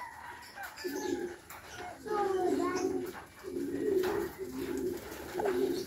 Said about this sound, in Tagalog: Pareho lang yung kalapati.